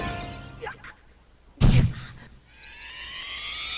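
A fairy popping out in the Zelda Ocarina of Time video game gives a short, bright burst of game sound, with a sweeping chime layered over in-game music and effects.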